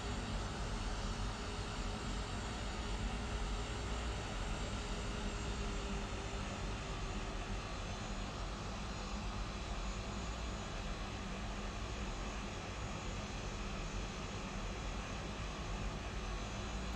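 An Airbus A320-214 jet taxis in the X-Plane 11 flight simulator, giving a steady, faint whining roar of engine and air noise that holds evenly throughout with no talk.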